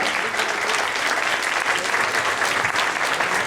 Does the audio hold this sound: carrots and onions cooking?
no